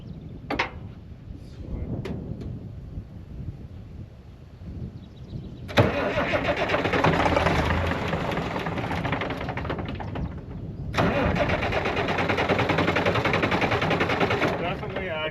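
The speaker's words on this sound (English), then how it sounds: "Definitely acting like a tractor that's losing fuel prime." A Farmall 826 tractor engine losing fuel prime cranks in two long loud bursts of rapid mechanical chugging, separated and preceded by quieter pauses with faint knocks and breathing noise.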